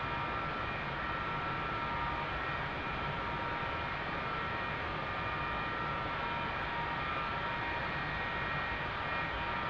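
A McDonnell Douglas F-4E Phantom II jet engine runs in the DCS flight simulator, a steady broadband roar and hum with faint whining tones, constant and loud throughout with no voices.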